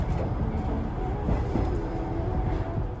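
A train crossing the Japanese countryside toward the mountains gives a steady low rumble and rolling rattle, heard from inside or close by, continuous over the whole stretch, with no talk.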